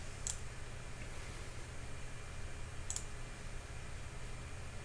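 Computer mouse clicks, two sharp, faint taps about two and a half seconds apart over a steady low hum in a quiet room.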